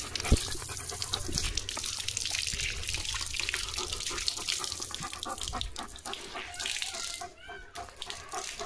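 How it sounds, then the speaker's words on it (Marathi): Water runs steadily from a tap, a continuous splashing hiss filling the clip, with faint background voices and household noise. "वाया चाललंय पाणी"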